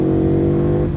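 Ducati Monster motorcycle engine running loud and close with a steady low droning tone under jerky throttle, heard alone for about a second.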